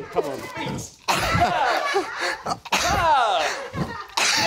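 A single sharp sneeze bursts out amid lively studio chatter and laughter, with people talking over it on a television talk show.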